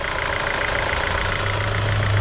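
A 2020 Jeep Renegade's 1.3-liter turbocharged engine idles steadily with the hood up, a continuous low hum and broadband whir holding near and even throughout with no talk over it.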